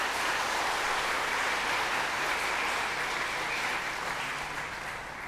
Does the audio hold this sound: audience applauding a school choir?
yes